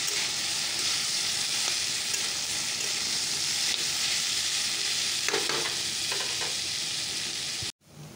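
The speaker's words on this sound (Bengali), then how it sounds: "আলু ফুলকপি ভাজাটা বসিয়ে দিয়েছি" Potato and cauliflower frying in a pan, a steady close sizzle with occasional stirring scrapes, no talk, cutting off abruptly near the end.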